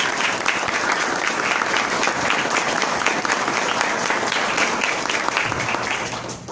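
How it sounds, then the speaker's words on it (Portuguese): Audience applause at a liberal economics conference, a steady dense wash of clapping from a large crowd that holds evenly throughout and tapers slightly at the very end. "Uma salva de palmas para ele."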